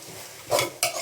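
Washed coriander leaves drop into a hot frying pan, setting off a sudden burst of sizzling, then a second sharp surge of frying hiss as they are stirred, close and loud.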